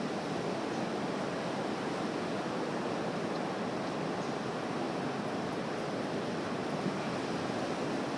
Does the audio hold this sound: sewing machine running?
no